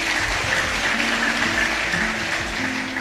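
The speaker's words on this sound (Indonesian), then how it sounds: "Tepuk tangan dulu." Applause from an audience during an Indonesian talk, a dense, continuous wash of clapping mixed with murmuring crowd noise, moderately loud and steady throughout.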